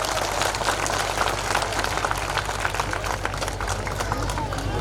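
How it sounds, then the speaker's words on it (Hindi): A large outdoor crowd at a Shiv Sena community evening in Dahisar Ward 4 claps loudly and continuously, a dense wash of applause with crowd murmur underneath. "उत्तर भारतीय के सम्मान में मंगेश पांगार मैदान में से जोरदार तालियां बजाएं"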